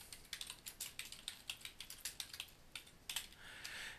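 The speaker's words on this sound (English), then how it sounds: "I can hit enter on the keyboard or just add client here, and we can type in the client name" Someone types a client name on a computer keyboard in legal conflict-checking software. Steady, close key clicks with a brief flurry near the end, and no one talking.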